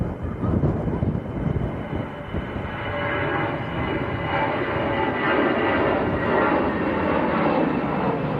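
EasyJet jet departing Manchester Airport for Hamburg on a windy day, a loud sustained engine roar that swells slightly and holds steady, heavy and broadband, with no voices.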